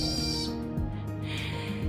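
Birds call in a garden, a couple of faint, thin calls rising over soft low background hum with no talking.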